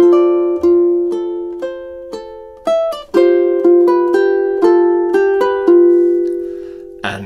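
A ukulele plays measures 15 and 16 of Ave Maria, with clearly plucked, ringing single notes and short chords in a slow, even rhythm, close and alone.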